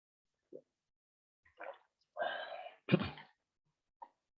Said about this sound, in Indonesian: Aduh, sampai lupa tadi sampai batuk ya.